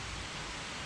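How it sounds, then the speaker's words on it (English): Heavy rain falls outside during a Chevy/Holden Cruze repair, a dense, even hiss with no breaks over the whole moment. "it is raining quite heavily outside"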